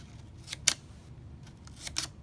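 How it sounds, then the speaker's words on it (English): Scissors snip a few quick, crisp cuts into a paper airplane to form wing flaps, close up and sparse, with a quiet pause between the clusters of snips. "you flip it upside down, you come in, and you would cut here"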